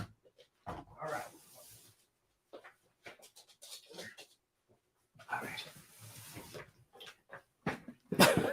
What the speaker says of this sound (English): I left my dog outside the door, and he was out there crying.